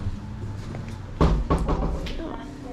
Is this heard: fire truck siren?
no